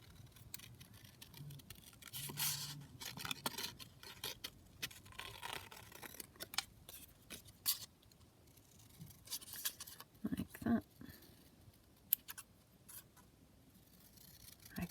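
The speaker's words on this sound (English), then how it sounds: "I'll just cut it out so as we've got it available to us" Paper being cut out with scissors at a craft table: quiet, uneven snipping and rustling, faint and close, with brief pauses between cuts and no talk over it.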